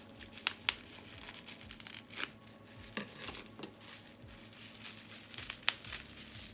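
Paper or plastic wrapping around a heavy item from a subscription box crinkles and tears in scattered close bursts, with a few sharp snaps against a quiet background.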